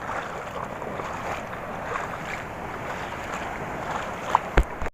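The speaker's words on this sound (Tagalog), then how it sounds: "Malalaki ang alon." Big rough sea waves wash against coastal rocks in a steady surging roar mixed with wind buffeting the microphone, ending in a few sharp knocks.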